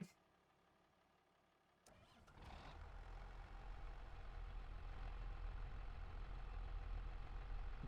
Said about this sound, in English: let's fire up this tractor